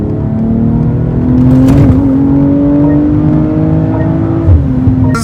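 A car with a dual stock exhaust revs hard, the engine note climbing and holding steady with a brief dip near the end, loud and close with no one speaking.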